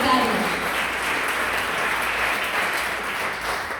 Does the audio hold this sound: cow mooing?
no